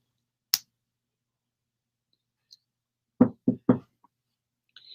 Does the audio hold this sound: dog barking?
no